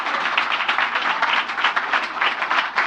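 Steady, dense applause from a seated audience at a Zenith Bank rights issue and public offer event, many hands clapping evenly at moderate volume with no talk over it.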